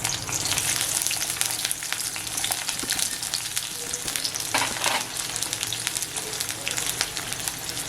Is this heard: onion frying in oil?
yes